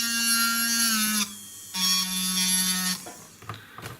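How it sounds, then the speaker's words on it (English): A high-pitched rotary tool spins a heart burr while cutting notches into the claw setting of a stud earring, whining in two bursts of about a second each, then stopping with a few small knocks. "when you're using a heart burr, you have to use it straight on so it lines up with the claw"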